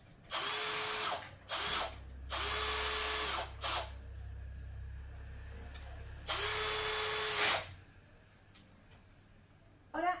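A power drill drives screws into the fixed side panel of a wooden Micuna Nordika crib: three long whirring bursts and a few short blips, each rising in pitch as the screw seats, with quiet pauses between.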